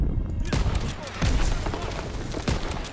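Several sharp, booming sniper shots in the World War II campaign of the video game Call of Duty WW2, spaced irregularly about a second apart with echoing tails and loud impacts.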